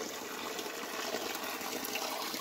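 Mountain spring water flows steadily through a quiet pine-area forest, a continuous broadband rush and gurgle that stays even and fairly close throughout, with no voices.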